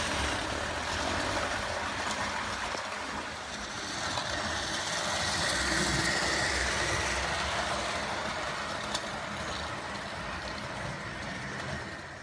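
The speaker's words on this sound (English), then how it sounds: "The noise in the background there is coming from a tender." Old Tri-ang car transporter tender wobbling as it runs on a model railway track, giving a steady whirring rumble that swells and eases slightly over the stretch, with one small click near the end.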